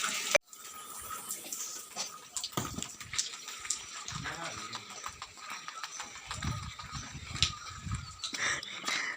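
Light drizzle falls outside, making a steady soft patter of drops and splashes close by, with a few louder drips and dull knocks scattered through.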